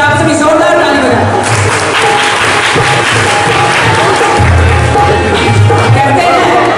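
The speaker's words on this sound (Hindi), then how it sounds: "एक बार आप सभी जोरदार ताली बजाएं।" Audience applause at a public gathering in Darbhanga, a dense steady wash of clapping with crowd noise and a low droning hum running throughout, loud and continuous.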